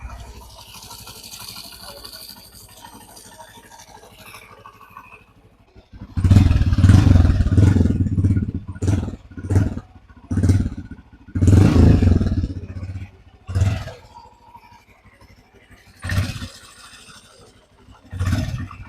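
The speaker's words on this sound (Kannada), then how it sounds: "ಈ ಬೈಕ್ನ ಎಕ್ಸಾಸ್ಟ್ ನೋಟ್ನ ನೋಡೋಣ ಹೇಗಿದೆ ಅಂತ." A Honda CB Hornet 125 motorcycle sits quiet at first, then its engine fires up close by and revs loudly in a series of sharp, throaty bursts with short dips between them.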